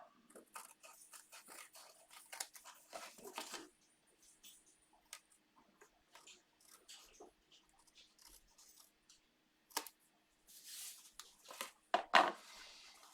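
Paper trimmed from the edge of a handmade Halloween card base, heard as soft, close, intermittent snipping and rustling with quiet gaps between and a few sharper clicks near the end.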